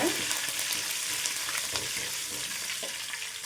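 Curry leaves sizzle and crackle in hot oil with cumin seeds in a pan while a brinjal dal curry is being cooked, a dense, steady frying hiss that runs throughout with no talking.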